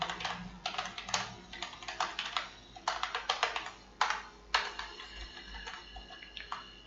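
Typing on a computer keyboard while writing embedded C code, quiet irregular clusters of sharp key clicks with brief pauses between bursts, close and alone without talk.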